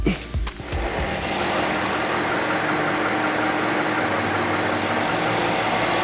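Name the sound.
vehicle engine cranked and running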